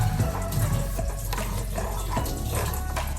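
Water pours into a pot of tomato and coconut curry mixture for curry pasta, a continuous splashing, gurgling stream with a few clinks, close and steady throughout, with no voices.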